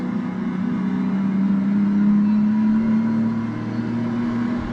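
Sim racing game race car engine accelerating, a steady loud droning whine whose pitch climbs slowly and then levels off, with no other sounds.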